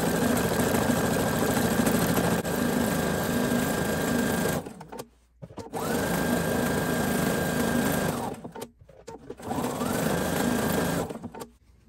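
A sewing machine runs steadily while stitching appliqué onto a T-shirt dress, a loud, even mechanical whir in three long bursts separated by short pauses.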